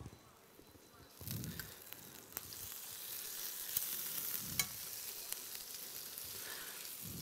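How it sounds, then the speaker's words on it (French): Sauce reheats in a pan on a stovetop hot plate, giving a soft steady sizzle and bubbling with occasional stirring scrapes, quiet and close, while someone talks now and then over it. "ce que vous allez faire, c'est réchauffer la sauce"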